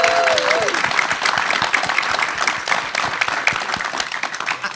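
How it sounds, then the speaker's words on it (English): A panel discussion audience applauds steadily throughout, a dense close wash of clapping with a brief voice at the very start. "So could you give them a round of applause,"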